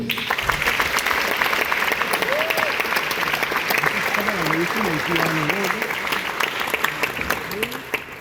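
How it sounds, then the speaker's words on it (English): An audience applauds a trio after their performance at a memorial lecture: sustained, loud, even clapping from a full room, with a few voices and tonal sounds audible through it. "I think they certainly deserve another round of applause"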